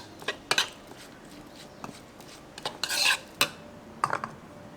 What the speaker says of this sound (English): soy sauce, then mix everything together.